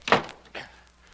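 A door closes with a solid thunk followed by a softer second knock as it settles, close and brief in an otherwise quiet room.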